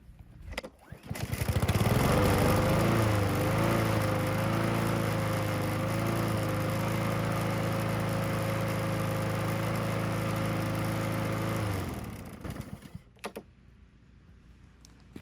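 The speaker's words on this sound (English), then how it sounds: "Seems to run all right with that aftermarket carb." A Honda-powered Craftsman lawn mower fitted with an aftermarket carburetor starts and runs steadily at a loud, even drone for about ten seconds, then shuts off and fades to quiet.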